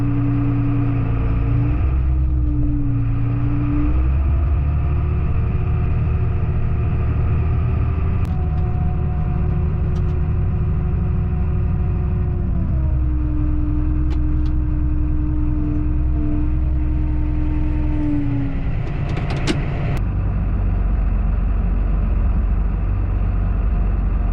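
A truck engine runs close by on a farm, a loud steady drone with strong low hum that shifts pitch as revs rise and fall, holding throughout with brief clicks near the end.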